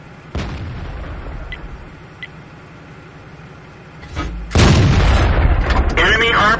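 Tank gun firing in World of Tanks, from a Jagdpanther tank destroyer, with one sharp blast early and a heavier, louder explosive burst near the end as an enemy tank is destroyed, over steady engine rumble.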